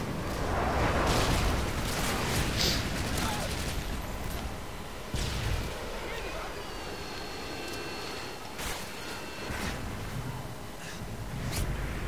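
Gunfire in the Modern Warfare 2 video game: a dense, continuous stretch of fusillade and explosive bursts, loud and close throughout, with sharp shots standing out near the middle and later on.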